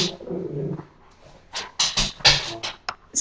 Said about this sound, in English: my dogs are playing in the background.